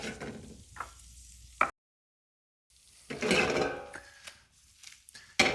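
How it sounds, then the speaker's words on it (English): Crawfish tails sizzling and frying in butter in a pan, with bursts of stirring and scraping, broken by a short silent gap partway through. "Make sure you get that butter frying again"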